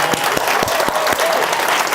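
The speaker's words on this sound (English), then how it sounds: "Give me a clap." An audience at an evening gathering claps together in a brief burst of applause, steady and fairly close.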